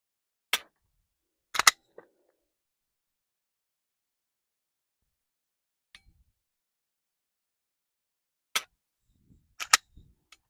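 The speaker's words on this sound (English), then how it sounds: "the dry fire test to test the trigger first on the Shadow System" Crisp dry-fire trigger clicks of a Shadow Systems pistol, in small pairs and singles separated by silence, sharp and close with no talk.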